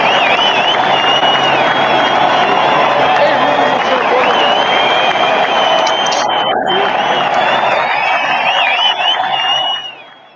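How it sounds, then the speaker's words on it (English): Loud crowd applause with cheering and whistles, sustained for several seconds before cutting off abruptly. "We got to give Hank Aaron, a big round of applause as well, man."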